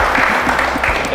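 Loud studio audience applause at an Odia television reality show, a dense steady wash of clapping filling the whole moment without pause.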